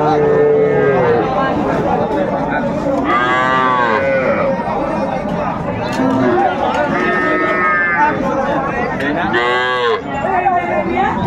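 Cattle and young calves, small bulls and heifers, lowing loudly and repeatedly at a busy livestock market in Chattogram, several drawn-out moos overlapping with crowd noise and nearby talk.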